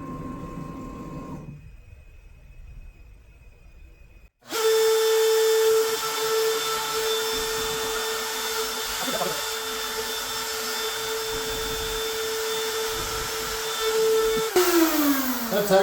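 A CNC machine probes for the corner of a workpiece for a bass guitar body: a quieter hum, a near-silent pause, then a loud, steady high-pitched motor whine that holds and shifts pitch near the end.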